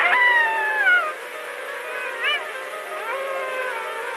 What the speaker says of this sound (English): How is the sound of a wolf out of tune?